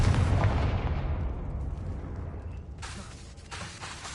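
A Confringo fire spell explosion in the Hogwarts Legacy video game bursts loudly with a deep, booming blast that fades into a long rumbling tail, followed by a fresh crackling flare of noise late in the clip.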